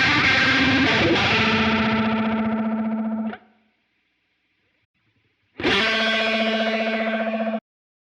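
Two bursts of distorted electric guitar chords from a Line 6 Helix-style gray flanger (MXR 117 model) placed before the amp distortion, each held for a few seconds with a swirling, sweeping effect, separated by a short silence.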